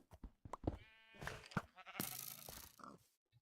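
A donkey's braying call in modded Minecraft with Thaumcraft: a short, harsh, wavering cry lasting a couple of seconds, close and fairly quiet, with no talk over it.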